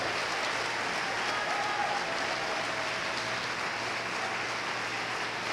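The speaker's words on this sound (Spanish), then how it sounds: "Aplaude a Cristo si vas a aplaudirle." A church congregation applauds during a sermon, a dense, continuous roar of clapping from many people that stays loud and even from start to finish.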